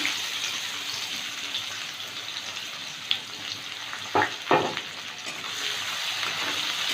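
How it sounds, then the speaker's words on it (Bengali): Chopped onions frying in oil with whole garam masala and a dried red chilli, a continuous close sizzle broken by a few louder stirring scrapes and clatters partway through. "পেঁয়াজটা একটু ভেজে নেব।"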